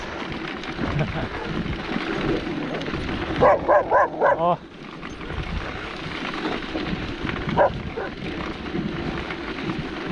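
Dogs bark near a school on a cold late-March road, a quick burst of four sharp barks followed by a lone bark later, over wind noise and a brief spoken word.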